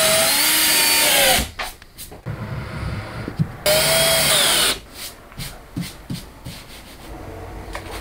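A power drill drives screws through insulation boards on the front of a roof, with loud whirring bursts broken by short pauses and scraping handling noises between them.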